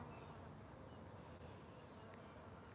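Bees buzz faintly in a vegetable garden with onions and broccoli, a soft continuous drone with no talk over it.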